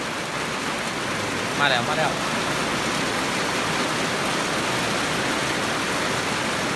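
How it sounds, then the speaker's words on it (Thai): Steady rain falls outdoors as an even, moderate hiss that continues throughout, with a brief voice speaking near the start. "ฝนตกมาละ"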